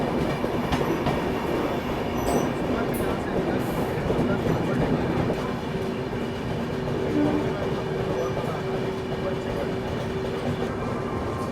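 An Indian passenger train rolls steadily, with dense broadband rumble and wheel clatter holding level throughout. A steady tone enters midway, as the Tirupati–Jammu Tawi Humsafar Express overtakes near Anshul halt in Maharashtra.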